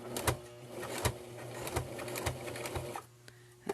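A sewing machine stitches fabric for a pet leash, its motor whirring steadily with a regular mechanical rhythm close by, pausing briefly near the end before starting again.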